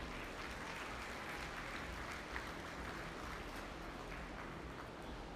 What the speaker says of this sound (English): Please give our judges a great round of applause.